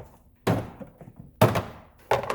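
Plastic interior trim panels in a 2012 Subaru Impreza are yanked loose, giving three separate hollow thunks with brief rattles, close and fairly loud over a quiet background.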